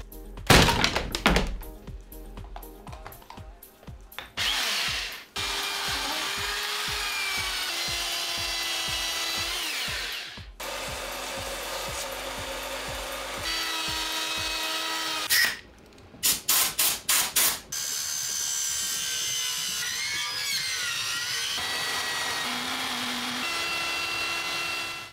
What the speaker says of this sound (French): grâce à cette ponceuse Parkside jetable